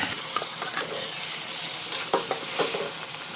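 Fried fish, likely rohu, goes into a yogurt masala with a little water and is stirred. Loud, close frying hiss runs throughout, with several spatula scrapes and knocks against the pan and no voices.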